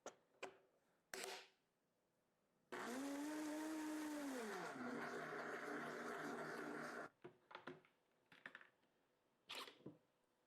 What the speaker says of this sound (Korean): 이렇게 익은 크림 소스는 그대로 믹서에 곱게 갈아주시면 돼요.